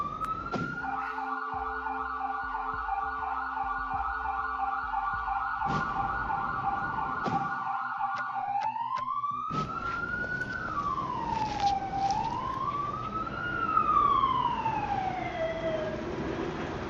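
Police car siren in the Police Simulator video game, a loud steady electronic wail with held tones and swooping rising and falling sweeps, heard alone.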